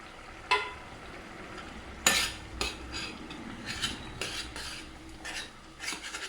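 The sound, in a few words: stirring and mashing potato into egg curry in pot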